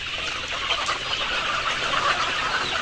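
Layer hens clucking together in a continuous, close, dense chorus of overlapping clucks, with no one talking.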